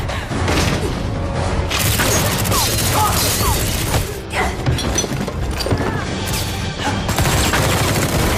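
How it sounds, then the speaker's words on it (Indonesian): Gunfire rings out in an action film as soldiers storm in: loud, dense, sustained volleys and bursts with booms and thuds, continuing almost without pause. "Jintai dan Sipan pun berlari menghindari peluru serta para pasukan yang masuk ke dalam sana"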